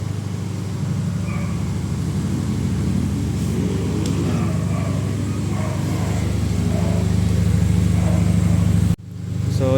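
A Honda Civic's engine idles steadily with a low, constant hum that swells slightly before cutting off abruptly near the end.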